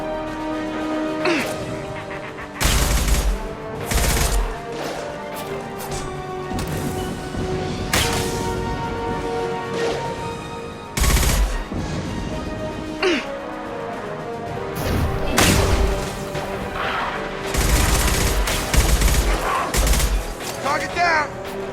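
Gunfire and impacts in the video game Mass Effect 2, loud bursts of shots and crashes recurring every few seconds over a steady bed of game music and ambience.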